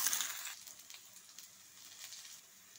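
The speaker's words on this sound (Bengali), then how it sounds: "আলুগুলোকে আমি ভেজে নেব" Potatoes frying in hot oil in a wok, a soft steady sizzle with faint crackles, quiet and continuous with no talk.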